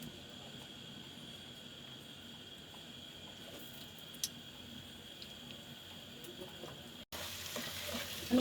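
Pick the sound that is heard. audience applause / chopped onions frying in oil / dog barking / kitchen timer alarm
chopped onions frying in oil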